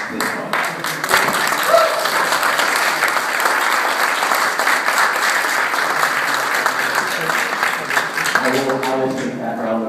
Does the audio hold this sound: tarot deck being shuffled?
no